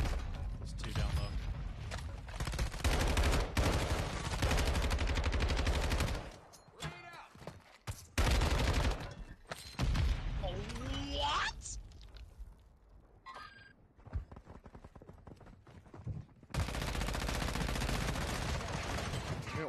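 Gunfire in a video game: heavy sustained automatic bursts, loud and close, broken by short pauses and quieter stretches, with players talking over parts of it.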